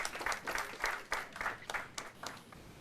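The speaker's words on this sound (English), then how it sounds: "A round of applause for our contestants." A quiz-show audience applauds the contestants at a university law challenge, a steady wash of hand claps pulsing in repeated bursts throughout, with no voices over it.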